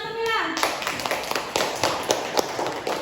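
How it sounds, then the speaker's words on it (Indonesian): Clapping in an Indonesian classroom, a scattered burst of hand claps from students following a brief tonal sound, irregular and fairly close. "Beri tepuk tangan Camilla."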